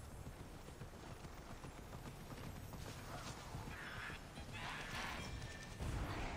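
Horse hooves clip-clopping in the video game Immortals Fenyx Rising, a steady running gallop with occasional heavier thuds, quiet overall.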